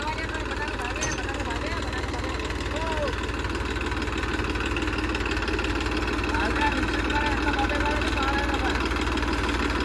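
A tractor engine runs in a farm field with a steady low throbbing rumble that holds close and constant throughout, while people talk over it.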